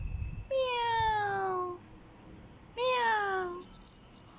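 Two drawn-out cat meows, close and clear, separated by a short pause, with quiet room background between them.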